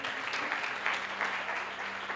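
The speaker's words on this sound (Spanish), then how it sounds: "Denle un aplauso al Señor" A church congregation applauds during a worship service, an even wash of clapping from many hands that holds steady and fairly loud throughout.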